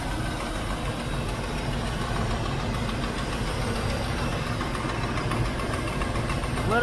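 A 1976 Chevrolet El Camino engine idles steadily nearby on its first start in 20 years, a low rumbling chug with a slightly uneven, knocking rhythm and a small exhaust leak click.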